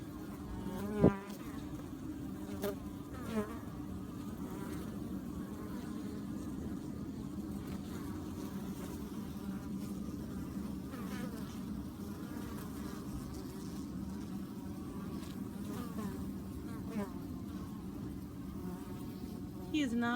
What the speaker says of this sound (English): Is it a bee that's trying to rob the hive?